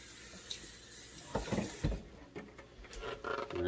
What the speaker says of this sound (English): I'm going to rinse out my blender.